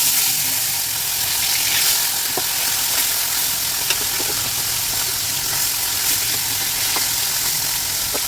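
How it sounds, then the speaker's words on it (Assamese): Koi fish fry in hot oil in a kadai, a dense continuous sizzle with faint crackles and occasional soft clicks, steady and close throughout. "তেলখিনি গৰম হ'বত দিছোঁ আৰু তেলখিনি গৰম হৈ গৈছে। মই তেতিয়া মই মাছখিনি দি দিম।"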